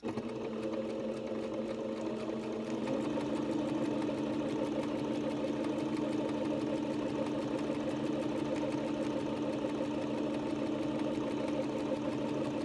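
A sewing machine runs continuously at an even, steady pace, stitching a long gathering line without stopping or backstitching, close and clear with no talk over it.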